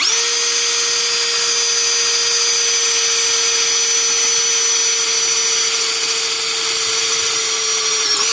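An APR AP34+ 13mm cordless impact drill runs at speed one with lubricant applied to the bit, giving a steady, unbroken high-pitched whine throughout, close and loud with no speech.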